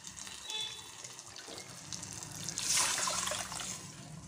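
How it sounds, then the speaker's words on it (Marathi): Water pours in a soft, faint trickle into a pot of cooking dal, swelling into a fuller splash near the end. "पाणी टाकायचं थोडंसं"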